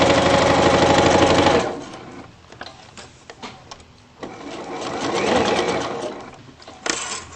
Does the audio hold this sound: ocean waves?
no